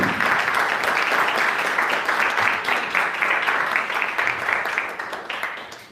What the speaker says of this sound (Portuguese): Aplauda o Senhor, amém?